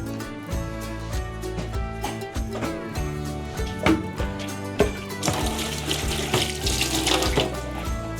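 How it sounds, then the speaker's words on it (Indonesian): A kitchen tap runs while hands are washed under it, a steady close splashing stream broken by rhythmic splats and knocks, growing louder and brighter in the last few seconds. "Cuci tangan dulu."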